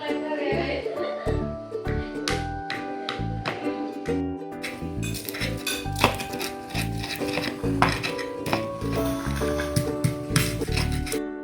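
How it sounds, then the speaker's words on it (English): Basil, garlic and chili are pounded in a mortar with a pestle, giving a rhythmic series of hard knocks and clinks, steady and close, with speech in between strikes. "let's prepare the mortar and the basil, and then put the garlic and then the chili, and we will grind them until smooth"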